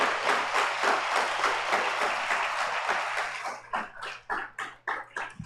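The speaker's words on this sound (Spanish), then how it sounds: "Dale ese aplauso al Rey entonces." Church congregation applauding during an Easter Sunday sermon, a dense sustained wave of clapping that thins toward the end into a few separate, uneven claps.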